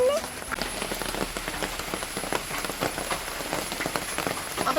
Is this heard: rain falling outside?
yes